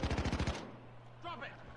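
Rapid automatic gunfire from the heist shooter PayDay, a loud burst of evenly spaced shots lasting about half a second, then a lingering tail with faint game sounds.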